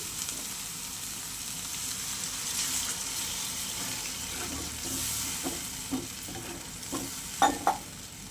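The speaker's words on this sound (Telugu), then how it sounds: "ఇప్పుడైతే వాటర్ వేస్తానండి" Water poured into a pan of frying prawn and chili masala sets off a loud, steady sizzle with stirring. Several sharp scrapes and taps come near the end.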